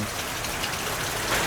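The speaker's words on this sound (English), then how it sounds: "Still raining." Steady rain falls in a continuous dense hiss of drops on surfaces at a farm, close and even throughout with no voices.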